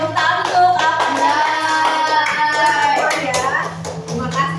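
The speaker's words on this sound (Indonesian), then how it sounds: "Oke, tepuk tangan untuk apa?" Schoolchildren clap their hands together in a classroom coding activity, a brisk burst of claps mixed with young voices and chatter throughout.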